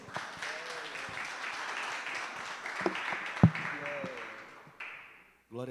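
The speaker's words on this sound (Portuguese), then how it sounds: "Vamos aplaudir Jesus?" A church congregation applauds at an evening gathering, a moderate wash of clapping with a few sharp knocks, fading toward the end before a voice begins.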